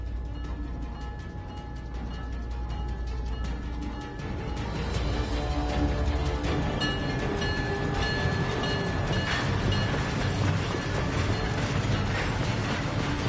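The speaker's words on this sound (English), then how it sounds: "The train for the airport is about to depart." A train departs in the Syberia video game, a steady low mechanical rumble with ratcheting, clanking gear sounds that grows louder partway through, continuous with no voices.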